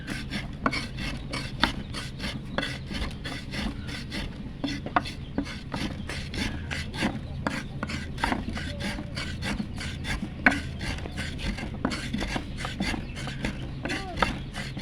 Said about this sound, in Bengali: নোড়া পশনের সাহায্যে খুব সুন্দরভাবে লাল মরিচের গুঁড়ো করে নেওয়া হচ্ছে।